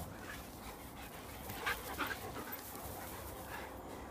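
A tired dog pants close by in quick, soft breaths. The sound is faint and steady, with a couple of slightly louder huffs.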